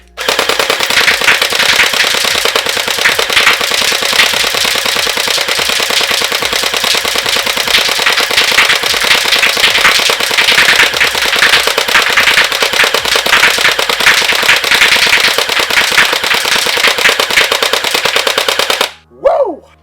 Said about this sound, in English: let's get a couple more shots at the target